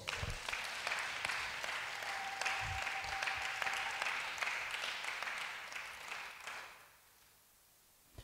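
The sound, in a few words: church congregation applauding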